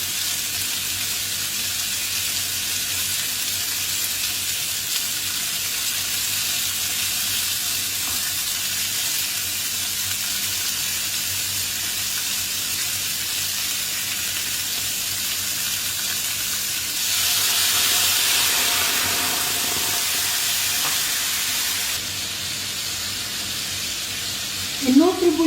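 Osso buco sauce sizzles steadily in a pan as the liquid cooks off, a close, constant frying hiss. A brief louder surge of bubbling comes partway through, and a short clatter is heard at the end.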